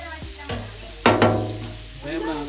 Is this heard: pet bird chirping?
no